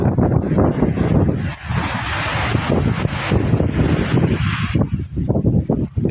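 Strong wind blows steadily outdoors, buffeting the microphone with loud, rumbling gusts that swell and dip throughout, with no voices present.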